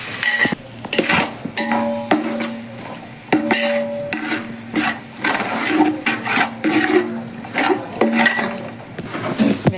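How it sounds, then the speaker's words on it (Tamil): Meat rinsed in water for biryani, with sloshing water, stirring and repeated clattering against a metal vessel, close and fairly loud, coming in uneven bursts. "வெங்காயம் வேகத்துக்குள்ள கறியெல்லாம் அலசி வச்சுக்கலாம்"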